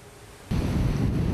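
Sea waves break on the beach at Constanța, starting suddenly as a loud, close, rumbling wash of surf mixed with wind buffeting the microphone and continuing steadily.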